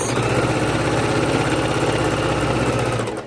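A sewing machine stitches along a fabric edge while a bowl holder is being made, a loud, steady motorized whir with a fast, even rhythmic pulsing throughout, close and alone without talking.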